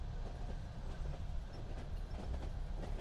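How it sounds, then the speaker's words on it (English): Steady low rumble of a moving train carriage, with faint rhythmic clicking of wheels on rails running continuously underneath. "the hum of the train beneath it all."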